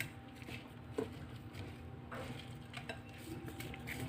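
Rice being mixed with other ingredients in a pot for biryani, with faint scraping and soft clinks of a spoon against the pot, quiet and intermittent.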